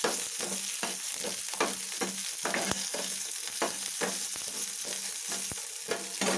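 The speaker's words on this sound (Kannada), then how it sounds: "ಹೀಗೆ ಫ್ರೈ ಆಗ್ತಾಯಿದ್ದೀನಿ" Garlic and ginger fry in hot oil in a pan with a bright, steady sizzle, punctuated by regular clicks and scrapes of a utensil stirring, close and continuous with no talking.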